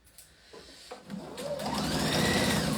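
A sewing machine stitches a backpack seam, starting with a few clicks and then spinning up into a steady, rising whir that runs loud and close to the end.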